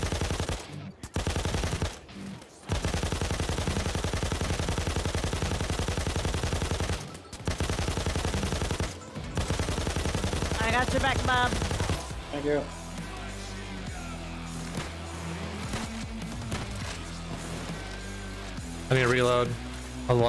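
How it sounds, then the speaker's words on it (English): Machine gun fire in a video game rattles loud and nearly nonstop in dense bursts with brief gaps for about twelve seconds, then gives way to background music with voices. "Machine gun, bitches!"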